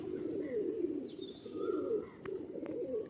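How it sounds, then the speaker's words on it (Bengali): A Panja breed pigeon at a loft in Sankrail, Howrah, coos in low, rolling bursts, close and fairly quiet. Faint chirps rise now and then in the background, and no one speaks. "এই হচ্ছে পাঞ্জা পায়রা"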